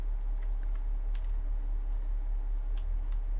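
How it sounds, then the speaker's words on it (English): Sparse, light key clicks tap out at an irregular pace against a steady low hum, a few keystrokes scattered across the stretch. "She's typing, I think."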